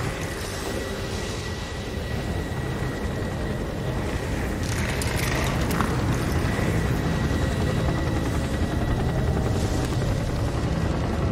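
A GCPD police helicopter in the Gotham Knights video game, a steady whirring rotor drone with broad noisy rumble, fairly loud and constant, heard alone with no talking.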